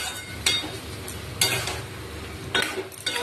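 Ridge gourd and potato with sugar, cumin, coriander, turmeric, salt and chilli powder are stirred in a pan, with low steady sizzling and three distinct scraping strokes spaced about a second apart.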